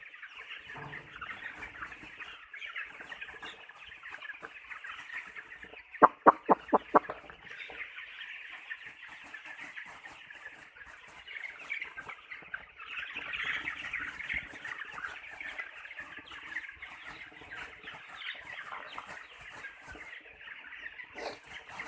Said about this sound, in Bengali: দেখছেন আমি লাদু সাঁতাতে মুরগিগুলো কীভাবে খাদ্যখানি খাইতে আছে